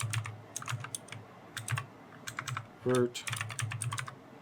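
Quick bursts of typing on a computer keyboard while renaming sketches, keystrokes clustered in short runs with pauses, close and crisp, with a brief low tonal blip partway through.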